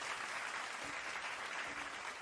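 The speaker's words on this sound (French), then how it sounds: "Merci pour ces applaudissements que je ne mérite pas au final" Applause on a live game stream, a steady even clatter of clapping that fills the whole short stretch at low level, with no voices over it.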